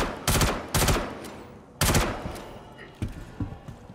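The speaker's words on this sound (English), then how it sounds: "I'm getting shot at." Loud, close bursts of automatic gunfire in the space video game Star Citizen, several rapid volleys in quick succession followed by quieter scattered shots, with no speech over them.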